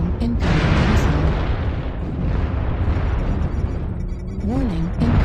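Incoming missiles explode around a mech in MechWarrior Online, a continuous roar of blasts and rumbling impacts, loud and close, with a brief synthetic warning tone near the end.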